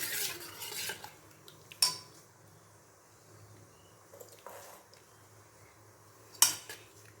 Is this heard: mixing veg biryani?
yes